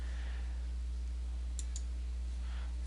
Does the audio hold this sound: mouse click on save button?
yes